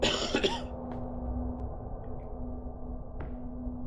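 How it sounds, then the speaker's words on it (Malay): A character coughs once, briefly, in the video game Out of Sight. After the cough, a steady low hum carries on alone with a few faint clicks. "kenapa dia bunyi batuk tadi?"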